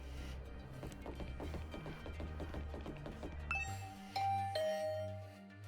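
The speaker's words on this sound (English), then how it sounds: "Rang the doorbell to Tsubasa's room" A two-tone electronic doorbell chime from the video game The Hundred Line: Last Defense Academy rings out clearly over a steady game soundtrack, its bright tones sounding several times in the second half.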